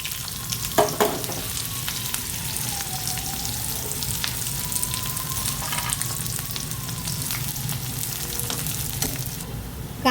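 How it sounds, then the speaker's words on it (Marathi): Roughly chopped onion fries in hot oil, a steady close sizzle that runs throughout, with occasional soft stirring clicks and no talking. "इकडे मी एक कांदा आबडधोबड कापून तो तेलात भाजून घेणार आहे."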